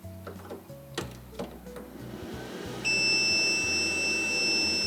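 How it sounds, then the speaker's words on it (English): A Renogy off-grid power system for a camper or RV switches on and gives a steady, clear electronic beep, held for about two seconds after some clicks and handling noises. "The beep is a good sign."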